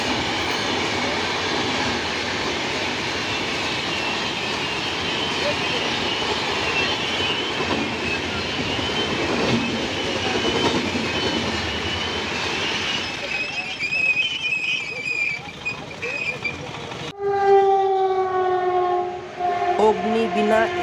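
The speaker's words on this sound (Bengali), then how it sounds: "অমৃতসর মেল," Amritsar Mail train rumbling past at speed, wheels clattering steadily and loud, the rush fading toward the end as a horn sounds with long sustained tones.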